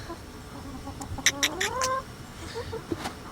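A few chickens cluck softly nearby in short bursts, with one rising call in the middle against a quiet background.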